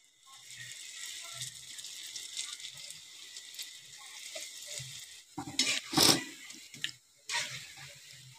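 Gulgula dough balls made with kathali banana frying in hot oil: a steady, fairly close sizzling hiss that swells into louder crackling bursts toward the end, with occasional light utensil clatter and no voices.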